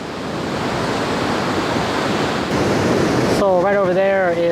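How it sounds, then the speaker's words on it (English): Ocean surf near Tamarindo, Costa Rica washes in as a broad, steady roar of breaking waves mixed with wind noise, and a voice begins speaking over it near the end. "this location is so close to the ocean"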